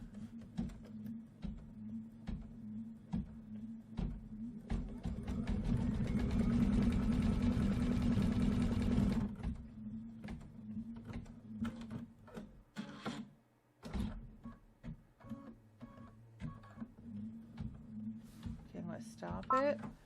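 An embroidery sewing machine stitches the handlebar and seat of a bike design, a steady mechanical whir that grows loud and dense in the middle before cutting back to intermittent clicks and thumps, with a voice talking now and then.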